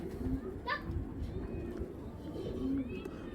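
Soft cooing from a Giribaz pigeon, a makra tera bird, low and close amid a loose flock, with a voice talking nearby.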